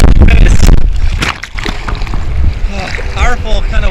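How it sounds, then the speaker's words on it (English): Ocean water churns and splashes around a surfer in cold surf off New York City, with loud wind and rough wave noise close to the microphone and a person talking over it. "Powerful kind of waves, but thick."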